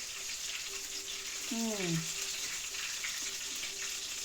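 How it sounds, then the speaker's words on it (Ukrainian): A cheburek made from yeast dough fries in hot oil with a steady bubbling sizzle, joined midway by a brief descending tonal squeal, all at moderate loudness with no talking. "Ось там жариться мій чебурек."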